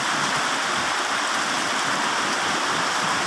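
Dense, steady hiss of heavy rain pouring down, constant and enveloping with no pauses or voices.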